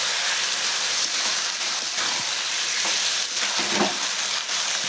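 Washed chicken pieces fry in a pan with ginger and garlic, a dense, loud, continuous sizzle with occasional stirring scrapes, close by and without talk.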